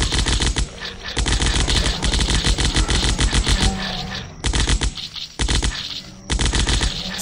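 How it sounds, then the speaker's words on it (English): Rapid automatic assault rifle fire from the Zombocalypse video game, loud sustained bursts of shots with brief pauses between volleys. "assault rifle."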